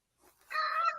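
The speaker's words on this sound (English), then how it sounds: "I hear chickens in the background." Chickens and roosters on a farm, clucking and calling in the background, starting faintly and then growing into a louder, busier chorus of overlapping bird calls.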